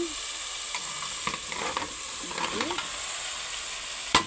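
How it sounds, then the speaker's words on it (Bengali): Curry spice paste frying and being stirred in a pan, with a steady sizzle and scattered scrapes of a spoon, plus one sharp clank near the end. "আমার তরকারিটা মশলাটা প্রায় কষানো হয়ে গেছে"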